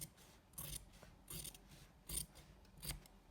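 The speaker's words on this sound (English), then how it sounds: "I have to cut one side a little bit so it's equal." Scissors snip fabric while trimming one side of a fly front zipper during sewing, four or five crisp close cuts in an uneven rhythm with no voices.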